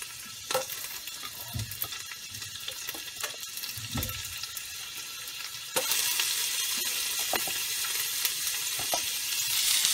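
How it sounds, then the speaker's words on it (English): Green onions with minced ginger and garlic frying lightly in a pan for Kung Pao shrimp, a soft crackling sizzle with a few clinks of stirring, which swells into a louder, steadier hiss partway through. "I'm going to be cooking the green onions very lightly with the minced ginger garlic."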